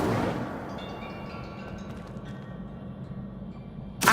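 An Incendio fire spell in Hogwarts Legacy bursts with a sharp whooshing blast that decays into a low rumbling crackle, then a short bright hit near the end, no speech.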